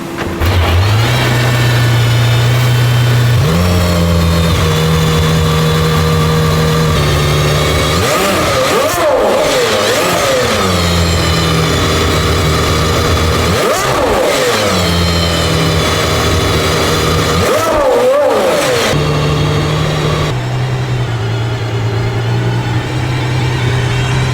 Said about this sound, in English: and that should fire up the motor